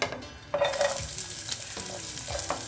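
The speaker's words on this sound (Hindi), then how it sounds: "तो अब मैं इसमें डालूँगी अपने कट की हुई प्याज।" Chopped onions sautéing in about two tablespoons of oil in a pan, a continuous close sizzle broken by several scraping stirs, fairly loud with no speech.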